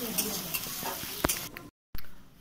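Onions frying in oil while being stirred in a pan, a steady close sizzle with scraping spatula strokes, then a brief dropout of silence before the frying resumes.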